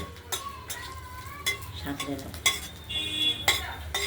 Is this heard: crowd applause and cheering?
no